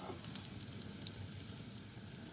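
Boreks, feta-filled pastry cigars, frying in fat in a pan, giving a steady soft sizzle with faint crackling pops throughout, fairly quiet and continuous with no voices.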